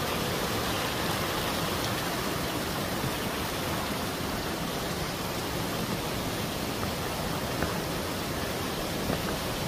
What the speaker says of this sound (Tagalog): ang ganda ang tunog nila mga babe, sobrang relaxing talaga ang tunog ng tubig dyan